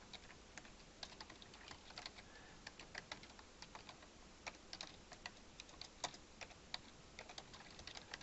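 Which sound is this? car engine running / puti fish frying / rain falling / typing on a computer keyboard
typing on a computer keyboard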